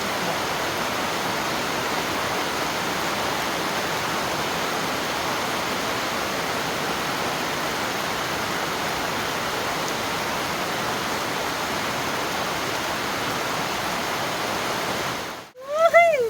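Heavy rain falls in a steady, dense hiss that holds at an even level for about fifteen seconds, then breaks off near the end as a voice briefly speaks up.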